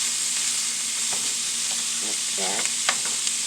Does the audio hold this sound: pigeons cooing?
no